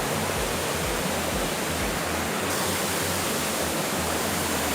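Khlong Yot Nam waterfall in Nakhon Si Thammarat, a steady, broad rush of falling water with a deep low rumble, close and continuous without pause.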